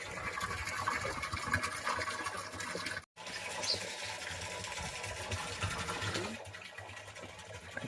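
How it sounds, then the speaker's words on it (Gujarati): A drinking trough for cows and buffaloes fills with water in a rainy village, a steady close gushing rush that briefly cuts out midway, then resumes and softens slightly toward the end. "ભેંસને પાવાનો કુંડો ભરાય છે"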